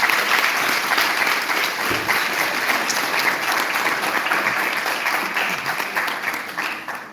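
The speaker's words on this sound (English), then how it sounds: "A big round of applause to Henry." A big round of audience applause at a university public lecture and book launch, sustained and fairly loud, many hands clapping evenly in a dense wash that fades slightly toward the end.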